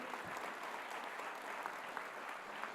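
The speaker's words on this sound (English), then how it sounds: "please, let's give a nice warm round of applause to all the candidates who are here" Steady, sustained clapping from a sizeable audience at a mayoral candidates forum, a dense even patter without cheers.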